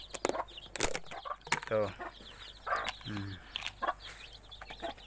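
A flock of chickens with seventeen chicks clucks and peeps close by at feeding time, scattered short calls under a person talking in Filipino.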